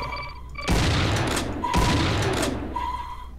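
Two heavy booming gunshots fire in the retro shooter Shrine, each a loud close blast with a lingering noisy tail, set against a faint tonal game background.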